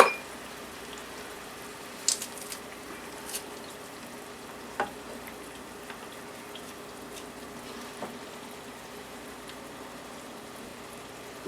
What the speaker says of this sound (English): cook onion and garlic in oil until onion is tender